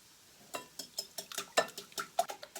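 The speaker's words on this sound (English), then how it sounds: "I can start to whisk." Raw eggs whisked in a bowl for a zucchini frittata, producing a run of quick, light clinking strokes that quicken into a steady rhythm, close and fairly quiet with no talking.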